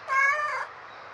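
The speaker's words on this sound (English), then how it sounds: "Look at that cat. It's so cute." A single clear cat meow, bright and drawn out, close by, followed by quiet background.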